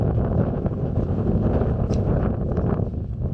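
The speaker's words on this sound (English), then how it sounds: "The wind is blowing so hard, I was actually afraid of getting blown off" Strong wind roars against the microphone on a steep mountain ridge in a park near Loja, Ecuador, a loud, buffeting rumble that stays constant without talk.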